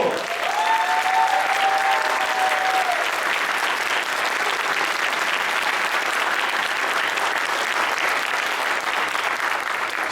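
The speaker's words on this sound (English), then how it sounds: "So let's give her a round of applause." Audience applause at a candidates' forum fills the room, a steady dense wash of clapping sustained for about ten seconds at even loudness, with faint crowd murmur and a brief voice early on.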